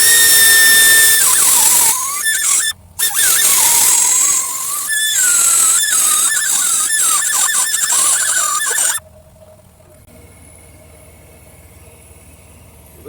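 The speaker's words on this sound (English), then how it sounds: "So, do a little grinding here," A power grinder whines loudly and close against a patch weld on a 3034 engine block, its pitch wavering under load with a brief cut-off, before stopping and spinning down into quiet.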